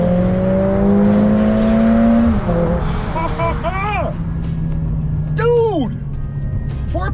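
A turbocharged 2-liter 4-cylinder car engine revs up and climbs in pitch as it accelerates, with gear shifts and rising whines, loud and close, at over a mile above sea level.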